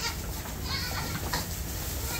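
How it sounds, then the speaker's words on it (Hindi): Goat kids crowd a goat farm pen, with busy animal bleats blending into a dense, steady din of farmyard noise; a voice may be present in the mix. "तो ये सब बकरियों के बच्चे हैं"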